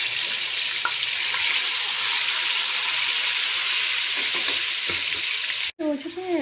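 Ginger and garlic paste fries in a pan, a steady loud sizzle that continues throughout with faint stirring scrapes, ending in a brief break and some clatter.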